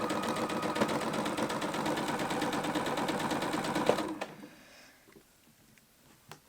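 Sewing machine stitching a quilted fabric bowl cozy, fabric guided around a curve: a steady, close, continuous motor whir with rapid needle rhythm for about four seconds, then stopping, leaving faint handling clicks.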